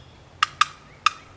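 A turkey box call gives three short, sharp, high-pitched hen yelps, close and clear. The first two come in quick succession and the third follows after a brief pause.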